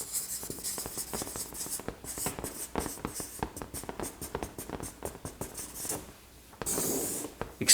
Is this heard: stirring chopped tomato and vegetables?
no